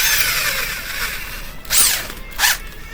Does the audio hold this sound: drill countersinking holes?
yes